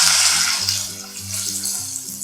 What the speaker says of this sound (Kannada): ಜೀರಿಗೆ ಚೆನ್ನಾಗಿ ಫ್ರೈ ಆಗ್ತಿದ್ದ ಹಾಗೆ 2 ಮೀಡಿಯಮ್ ಸೈಜ್ ಈರುಳ್ಳಿ ಉದ್ದುದ್ದ ಕಟ್ ಮಾಡ್ಕೊಂಡಿದ್ದೀನಿ